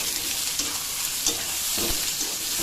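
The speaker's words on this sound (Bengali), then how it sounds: "চিংড়ি মাছগুলো দিয়ে সুন্দর করে নেড়ে চেড়ে চিংড়ি মাছটাকেও ভেজে নেব" Prawns stirred and fried in coconut paste in a pan, a steady close sizzle with occasional scraping stir strokes, no voices.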